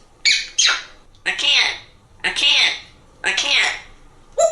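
A parrot squawks and chatters in harsh, speech-like bursts with a southern accent, five loud raspy calls spaced about a second apart, close and clear.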